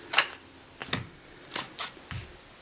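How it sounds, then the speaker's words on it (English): Tarot cards are shuffled out by hand in several quick, close, soft riffling bursts with short pauses between them, alone without talk. "You will note I shuffle out my cards."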